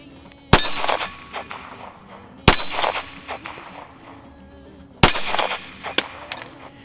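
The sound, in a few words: 9mm gunshot with Shell Shock cases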